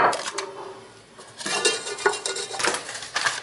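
A metal baking tray being handled and oiled while preparing a cinnamon cake, with close metallic rattles, scrapes and clattering rustles throughout, no voices.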